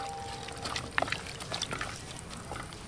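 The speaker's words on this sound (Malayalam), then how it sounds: "വെള്ളം ഒഴിച്ചു" Water pours into a pot for beef stew, a short, close trickle and splash lasting a few seconds with no talk.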